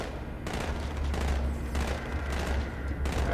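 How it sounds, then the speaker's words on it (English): Rapid gunfire in Halo 2: Anniversary, a dense fusillade of overlapping shots and booms at moderate distance, continuous throughout. "I mean, they're shooting over there,"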